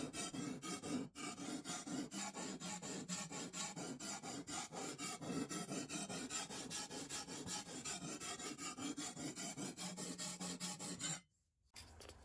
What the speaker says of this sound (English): with each pass, the edge becomes more polished, more consistent, and you get closer to that razor sharp edge